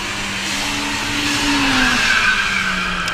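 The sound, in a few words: VW Golf and Polo TDI drag racing launch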